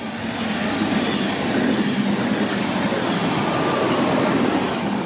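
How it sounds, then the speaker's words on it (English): A TGV high-speed train rushes past a long station platform, a loud dense roar of wheels and air that holds steady for several seconds, with no voices. "Oh Christ, I wasn't expecting a TGV!"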